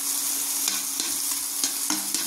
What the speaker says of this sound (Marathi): आपण टमाटा पण टाकू त्याच्यात.